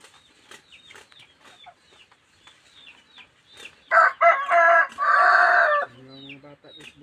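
Chickens cluck and squawk nearby on a farm, with one loud drawn-out crow near the end, over scattered soft background noises.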